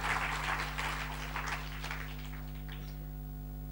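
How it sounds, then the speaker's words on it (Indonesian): A church congregation claps during an Indonesian-language sermon, a burst of applause that is strongest at first and then thins out and fades within a few seconds, over a steady electrical hum. "Berikan tepuk tangan nih buat Tuhan Yesus."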